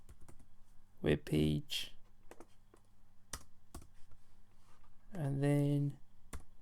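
Computer keyboard typing while entering HTML code in the Atom editor: a quick series of light, close clicks, scattered between stretches of someone talking.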